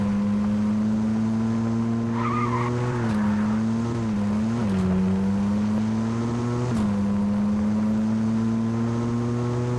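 A Fortnite SUV's engine drones in a steady, buzzy hum with a few quick pitch dips and rises, loud and continuous in the video game with no speech.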